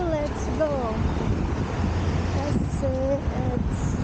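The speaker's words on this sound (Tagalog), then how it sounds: "Mahangin dito guys, Diyos ko, napakahangin pala dito ngayon, malamig." Strong, cold wind buffets the microphone outdoors in a steady roar, with a voice speaking faintly beneath it.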